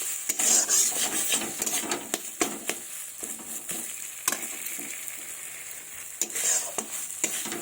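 Mashed boiled potato sautéed in a pan, a soft sizzle broken by frequent quick scrapes and clinks of a spatula against metal, close and steady.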